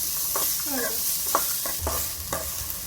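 Karchikai palya is stirred and fried in a pan, giving a steady close sizzle broken by several scraping strokes of the spoon, with a faint voice briefly in the background.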